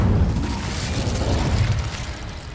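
Incendio fire spell cast in Hogwarts Legacy, a loud rumbling burst of flame with a deep booming body and crackling texture that roars continuously and fades slightly toward the end.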